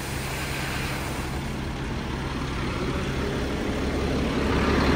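A loader's diesel engine runs close and loud in a steady rumbling idle that swells slightly toward the end.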